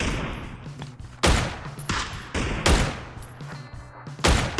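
Gunfire in the battle royale video game PUBG: several loud bursts of shots strike at irregular intervals, each a sharp crack with a rolling tail, over a constant background bed of game ambience.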